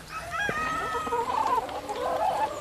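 Several native Korean hens cluck and cackle nearby on a farm in Paju, Gyeonggi Province, with a rooster's crow mixed in, a lively farmyard chorus of overlapping bird calls.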